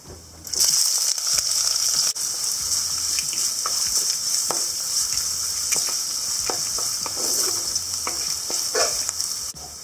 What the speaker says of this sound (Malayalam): ഇനി ഇതിലേക്ക് ചോപ്പ് ചെയ്ത് വെച്ചിരിക്കുന്ന ഇഞ്ചി, വെളുത്തുള്ളി, പച്ചമുളക് നീളത്തിൽ മുറിച്ചത് ചേർക്കാം.